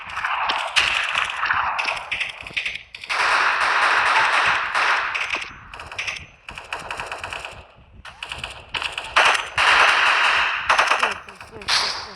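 Rapid gunfire bursts in the video game Delta Force, with a sniper rifle chosen, crackling loudly and almost continuously in long volleys with short gaps between them.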